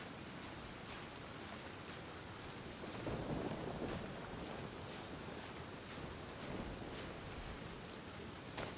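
Steady rain hisses in the Genshin Impact video game, with a soft rumble of thunder swelling in the middle, faint and continuous with no talking.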